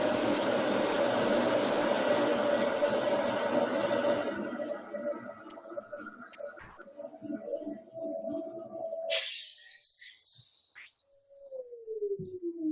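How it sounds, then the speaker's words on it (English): Loud whooshing drone of a vacuum cleaner drawing air out of a veneer press bag, steady at first and fading, then cutting off with a brief hiss and squeal. "I use a vacuum cleaner to initially draw most of the air out."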